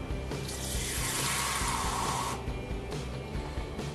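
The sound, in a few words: water mixed with dishwashing detergent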